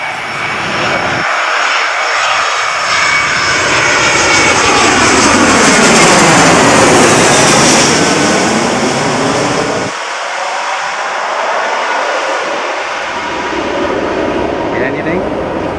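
Virgin Atlantic Airbus A340-600 jet taking off from Sydney: a loud, sustained engine roar that swells toward the middle as the aircraft passes close, with a sweeping Doppler shift, then a steady rumble as it climbs away.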